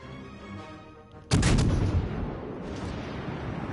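Naval gunfire in World of Warships Legends, a single heavy cannon blast that breaks through low engine rumble and rolls out into a long booming tail with a faint second rumble, loud and close.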